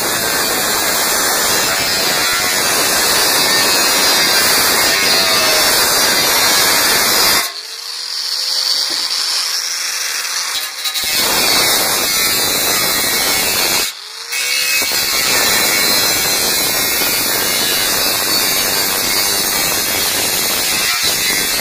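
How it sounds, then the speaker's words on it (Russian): An angle grinder whines loudly and continuously as it cuts sheet metal, with a high hissing edge, briefly stopping twice before starting up again. "Я сделаю это болгаркой."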